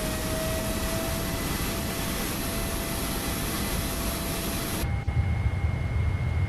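A PMDG Boeing 777-300ER in a flight simulator gives off a steady, even jet roar with a faint high whine and no talking. It drops abruptly to a lower, duller rumble near the end.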